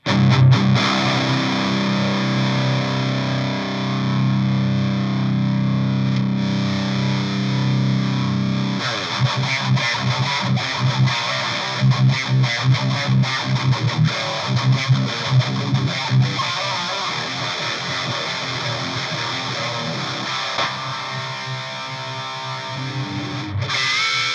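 An electric guitar played through a Rat distortion pedal set like a boost into a Randall amp, sustained crunchy chords giving way to choppier, palm-muted riffing, loud and continuous.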